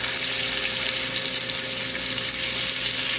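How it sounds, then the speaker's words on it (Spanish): Swordfish fillet sizzling in a pan with garlic for a Sicilian-style dish, a steady, dense frying hiss that carries on without a break and with no voices. "Cuando vemos que está friendo así bien, le colocamos nuestro pez espada."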